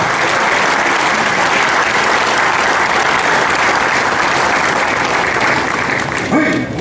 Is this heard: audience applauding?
yes